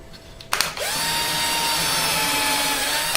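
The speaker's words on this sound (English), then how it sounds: "I'll flip it over and pilot and screw all those things together" A power drill driving screws into the body of a custom electric guitar build, spinning up with a click and then holding a steady, close whirring whine, with no talking.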